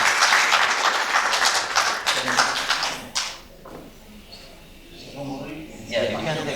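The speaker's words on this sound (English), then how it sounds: "So let's give him a round of applause." An audience applauds loudly at a community television broadcast, the clapping fading out after about three seconds, followed by quieter sounds and a voice talking.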